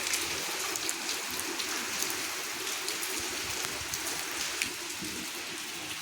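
Steady rain falls continuously, a dense hiss of drops on surfaces with no voices.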